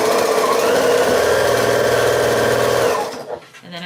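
A sewing machine stitches quilt star blocks in a fast, steady run lasting about three seconds, loud and close, then stops abruptly.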